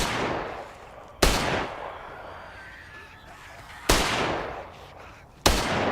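An old, primitive pistol in Nakwon: Last Paradise fires three loud, sharp shots spaced a couple of seconds apart, each followed by a fading echo.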